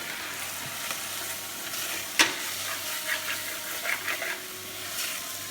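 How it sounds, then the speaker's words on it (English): Spices sizzling in oil in a frying pan while being stirred, a steady close hiss with scraping and occasional clacks of the spoon against the pan. "So we need to stir it all together all the time."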